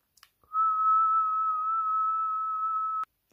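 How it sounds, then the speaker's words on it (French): A person whistles a single steady, clear high note that is held for about two and a half seconds, close by, after a few soft clicks and with no talking. "Donc si je siffle"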